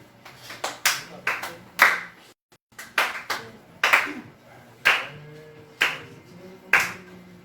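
Claps ring out at a Sunday church service, a few separate sharp hand claps spaced unevenly with a brief silent gap, over faint room murmur.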